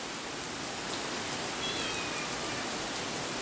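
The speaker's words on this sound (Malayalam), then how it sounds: "ഉച്ചയ്ക്ക് നല്ല കിടിലൻ മഴയാണ് പുറത്ത്" Heavy afternoon rain pouring outside, a soft, even hiss of rainfall that holds steady throughout, slightly distant, with no one talking.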